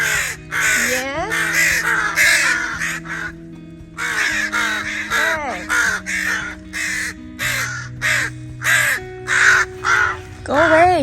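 Crows at a park caw repeatedly in harsh, rhythmic bursts close by, several calls in quick succession with short pauses, while someone talks back to them between the caws.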